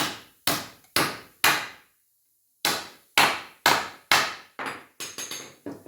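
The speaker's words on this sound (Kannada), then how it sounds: "ಇದು ಮಳೆ ಕರೆಕ್ಟಾಗಿ ಹೋಗ್ಲಿಲ್ಲ ಅಂದಾಗ ಹಿಂಗೆ ಸುತ್ತಿಗೆ ತಗೊಂಡು" A hammer drives a nail into pallet wood with about a dozen sharp, loud strikes, four evenly spaced, a pause, then a longer run that quickens and lightens at the end.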